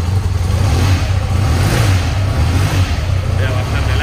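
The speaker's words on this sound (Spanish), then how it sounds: "El motor, desde luego, ya veis que suena muy bien." A motorcycle meant as a base for a custom cafe racer build runs its engine close by with a steady low rumble and mild revving, under ongoing talk.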